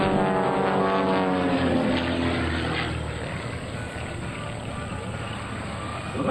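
Two aerobatic propeller airplanes of the Split Image Team performing at the Willow Grove Air Fest, a loud sustained engine and propeller drone with shifting pitch as they climb, heard from the ground under an announcer's voice.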